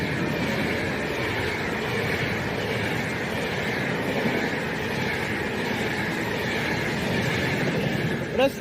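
A Pendolino train runs past on a main line, a steady broad rushing roar that holds at moderate loudness throughout without clear breaks, ending in a brief rattle.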